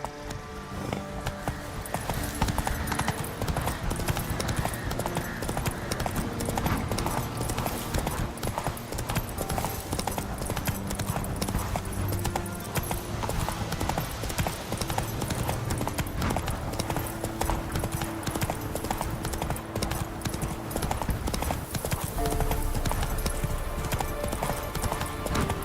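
The horse Roach gallops in The Witcher 3, its hooves beating a steady, rapid clip-clop throughout, loud and continuous over a dense game soundscape.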